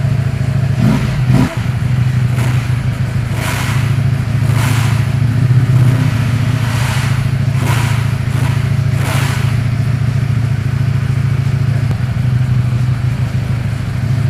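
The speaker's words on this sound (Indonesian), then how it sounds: "Geber ya, coba kita geber ya." A large 1100 cc motorcycle engine idles with a deep, bassy rumble and is revved several times in repeated bursts, close and loud.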